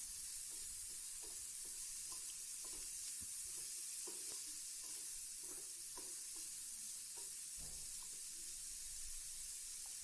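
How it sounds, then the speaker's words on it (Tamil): Chopped onion sautéing in oil in a pan for paneer masala, a soft continuous sizzle with intermittent light stirring clicks, fairly quiet and steady throughout, no voices. "இது நல்லா சாட்டே பண்ணிக்கோங்க."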